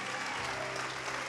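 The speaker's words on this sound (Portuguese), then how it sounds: "Vamos aplaudir ao Senhor Jesus" Church congregation applauding together, a dense steady wash of clapping with no distinct gaps, fairly loud and continuous throughout.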